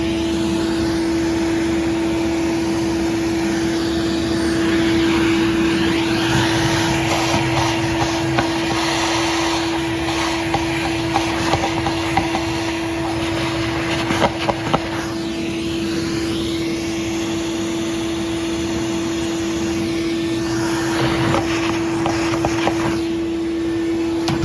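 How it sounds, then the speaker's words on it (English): A vacuum cleaner runs steadily while cleaning out the radiator of a 1930 American LaFrance 200 Series fire engine, a loud continuous whine with a fixed hum and shifting airflow as the nozzle moves, with no speech. "Throw the vacuum cleaner in there real quick."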